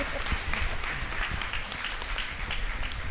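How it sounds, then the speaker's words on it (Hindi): An audience at a women's empowerment seminar claps steadily, dense applause filling the space with no voices over it. "अब टाइम है हम सब मिलकर दीदी के लिए तालियां बजाएं"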